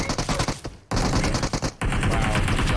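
Gunfire in the mobile battle royale game PUBG Mobile, loud rapid bursts of shots in two dense volleys separated by brief silent gaps, close and sharp.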